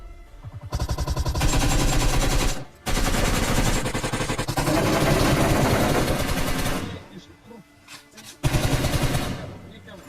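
Loud bursts of rapid automatic gunfire rattle on and off, separated by short gaps, in a hectic shootout in the game BGMI at Pochinki, with a grenade thrown.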